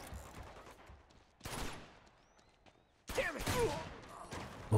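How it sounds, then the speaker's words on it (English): Bursts of machine gun fire in Uncharted 2, with a short loud volley followed by a longer, heavier stretch of rapid gunfire in a noisy combat scene. "Just machine gun the guy in the head."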